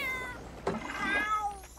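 A cat meows in a restaurant video game, a single drawn-out cry rising and falling, clear and close over a soft steady background.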